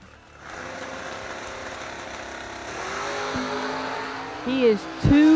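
A Chevrolet Camaro makes a solo bye run at a bracket drag racing event, the engine droning loudly before a sharp roar and surge near the end, with announcer speech over it.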